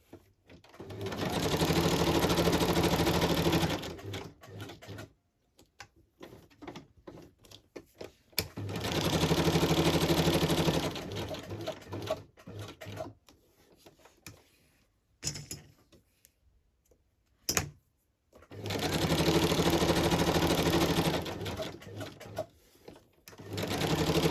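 A sewing machine stitches around a paper journal card in three loud, steady runs, with quiet pauses and faint handling noise between them.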